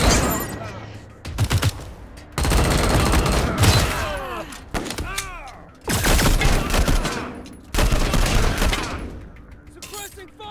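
Suppressing gunfire in the Wasteland 3 video game comes in loud bursts of rapid shots separated by short lulls, with voices and other game sounds mixed in.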